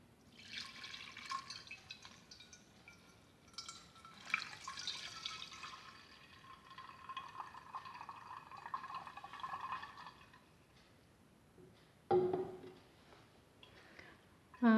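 Homemade honey ginger wine strains through a cloth tied with a rubber band, giving soft intermittent trickles and drips that come and go quietly, with a sharper clink of a container near the end.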